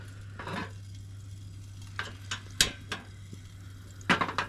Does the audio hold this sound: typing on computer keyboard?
no